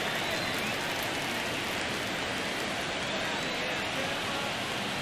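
Steady, dense rain hisses over a baseball field in the MLB The Show video game, filling the whole stretch evenly, with a commentator's voice faintly blended underneath.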